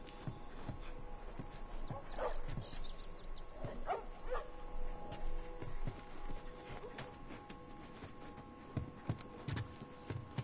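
Dog barks, yips and whimpers come from The Last of Us Remastered, scattered at moderate loudness over a steady game background hum.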